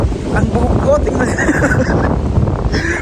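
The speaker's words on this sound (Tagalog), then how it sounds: "Mahangin, literal na mahangin sa labas." Wind buffets the microphone with a steady rumbling roar outdoors in Uzbekistan, while a voice speaks over it.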